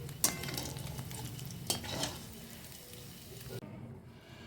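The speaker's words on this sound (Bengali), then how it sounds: "এবার নামিয়ে এবার মশলাটা ভাজবো" Spice paste frying in a pan after puti fish, a steady sizzle with a few sharp clinks and scrapes of a spoon against the pan, close and fairly quiet.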